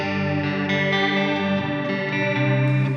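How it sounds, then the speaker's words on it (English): Electric guitar played through a Strymon Timeline delay pedal set to a short slapback, sustained chords with a tight doubled, chorus-like shimmer ringing continuously and fairly loud. "if we put it at like 100, it's like a small slapback."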